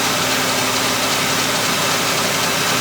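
A Ford engine idles steadily with a Ford alternator kicking on, producing a constant broadband mechanical hum with a faint steady whine running through it, close and without talk.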